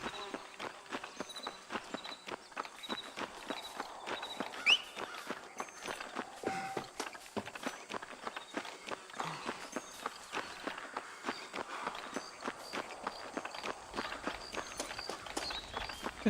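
Faint, steady hoofbeats of a horse trotting in the Red Dead Redemption video game, a continuous rhythmic clip-clop heard at low level from start to finish.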